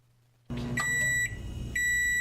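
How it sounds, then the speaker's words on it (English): A microwave oven beeps a few times with sharp electronic tones over a low background hum, the last beep holding longer. "Microwave."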